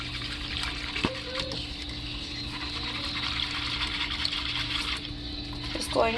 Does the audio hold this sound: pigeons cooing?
no